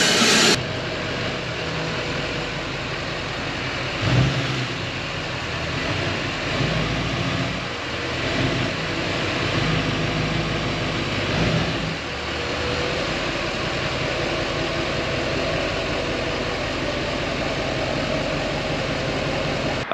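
A truck engine idles while warming up, giving off a steady low rumble with slight vibration that runs evenly for the whole stretch, interrupted by a couple of faint knocks and no voices.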